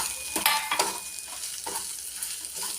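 Turmeric, chili powder, coriander powder and egg masala sizzle in hot oil with tomato while a spoon stirs the pan, giving a soft frying hiss broken by a few short scraping strokes, with no talking.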